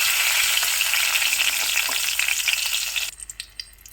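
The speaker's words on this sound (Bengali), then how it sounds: "গোটা গরম মশলা ফোড়ন দেবো।" Bay leaf, dried chilli and whole garam masala sputter and crackle in hot oil in a wok, a loud steady sizzle that drops away suddenly, leaving a few scattered pops.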